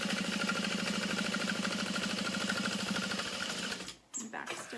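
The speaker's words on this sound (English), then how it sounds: "So 1/2 inch seam allowance, you want to sew right next to the Peltex" A sewing machine runs steadily, stitching a 1/2 inch seam right beside stiff Peltex interfacing on a fabric beauty bag, its rapid even chatter continuing for about four seconds before stopping abruptly, with a few soft handling sounds after.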